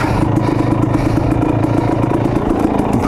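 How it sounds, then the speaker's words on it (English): A KTM 250 XC dirt bike engine runs steadily at close range, a loud, continuous buzzing idle with no voices over it. "Starting the bike."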